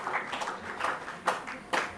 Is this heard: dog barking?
no